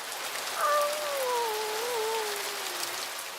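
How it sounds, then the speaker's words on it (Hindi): Rain falls as a steady, soft hiss at close range, and a faint warbling whistle-like tone drifts over it midway, with no one speaking. "बारिश होने लगी।"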